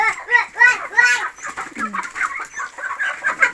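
Chickens cluck in a series of close, loud calls while people talk over them, with the flock's clucking rising and falling in short bursts.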